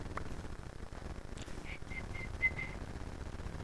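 A person whistles five short, quiet notes in a quick, even row, near but faint over a steady noisy background.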